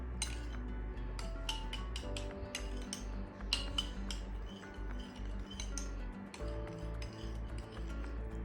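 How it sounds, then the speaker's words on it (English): A conditioner-based hair pack is mixed in a bowl with a utensil, giving repeated close clinks and scraping taps in an irregular rhythm over a steady low background hum. "Okay, mix it. And I'm going to mix it."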